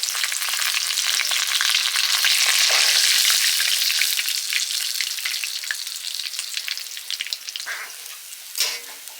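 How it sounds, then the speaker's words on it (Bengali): Fish frying in oil produces a dense, loud sizzle with spitting crackles that slowly eases and thins toward the end, with a few sharper pops near the close. "বাকি মাছ ভেজে নিচ্ছি"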